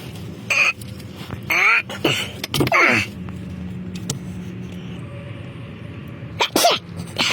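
Several sharp, explosive sneezes punctuate a steady background rumble in a garage during oil service on a new Mercedes C63 AMG, spaced over a few seconds with brief quiet gaps.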